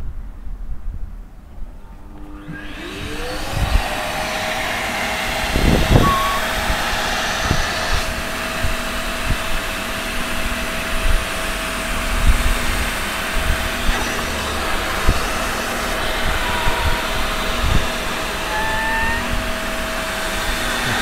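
A carpet injector-extractor doubling as a wet vacuum runs steadily while cleaning the carpets of an Audi TT roadster, starting up after about three seconds into a loud, continuous whining drone with a sustained tone and no talking.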